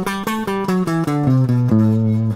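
Dorian mode scale played as eight even, sustained notes descending stepwise, the final note held longer, clean and solo with nothing else behind it.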